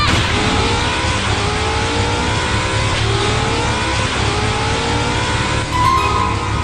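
A car engine revs hard and accelerates steadily throughout, loud and close, with rising engine tones sweeping upward as it gathers speed.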